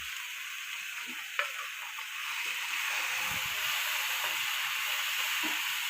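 Onion and garlic paste frying in a pan, a steady hissing sizzle with a faint clink of a utensil and occasional soft stirring, growing slightly louder partway through.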